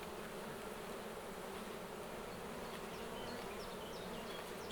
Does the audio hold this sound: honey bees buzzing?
yes